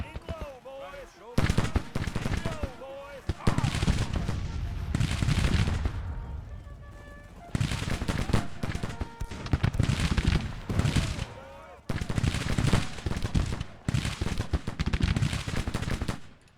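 Volleys of Civil War rifle and cannon fire in Grand Tactician, loud crackling bursts in repeated waves separated by brief lulls, with someone talking over parts.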